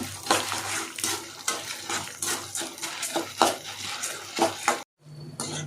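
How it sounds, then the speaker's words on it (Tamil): Chana dal being roasted in a pan gives off repeated rattling scrapes and taps as it is stirred, busy and close, breaking off abruptly near the end before a quieter hum returns. "ஒன்றரை கரண்டி கடலைப்பருப்பு சேர்த்தாச்சு. இப்போ இதை நல்லா பொன்னிறமாக வறுத்துக்கணும்."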